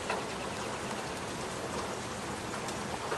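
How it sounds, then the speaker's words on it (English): A fast-moving spring squall line with hail and heavy rain in Stone Mountain, Georgia, pours down as a dense, unbroken roar of drops striking surfaces nearby, with no voices. "Squall line with hail here in Stone Mountain, Georgia."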